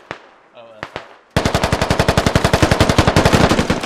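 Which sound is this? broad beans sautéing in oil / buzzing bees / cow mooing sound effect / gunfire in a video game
gunfire in a video game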